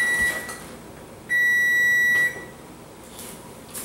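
A kitchen timer gives a short beep, then after a pause a steady, loud electronic beep lasting about a second before cutting off, with a quiet room around it.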